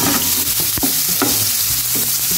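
Ginger, onion and tomato sizzle in a new pan, a steady close frying hiss broken by repeated scraping stirs of a utensil against the pan.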